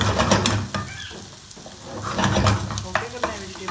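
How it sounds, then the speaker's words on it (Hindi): Onion and capsicum being sautéed in a pan while vegetable macaroni is prepared, giving a steady loud sizzle with repeated scraping stirs that ease off briefly in the middle, no voices. "सौटे करना है वेजिटेबल को।"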